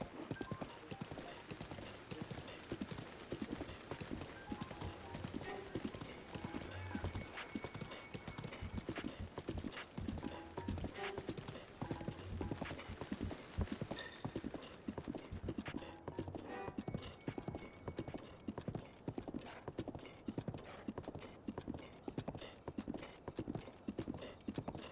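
Horse hooves clip-clopping steadily while riding in The Legend of Zelda: Breath of the Wild, a continuous rapid galloping rhythm that runs throughout, with occasional faint voice underneath.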